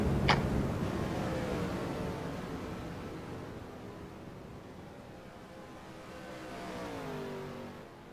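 Race cars circling under a caution at Homestead: engines drone past at moderate distance, one car passing with a pitch sweep, then another swelling closer and fading, with steady background noise.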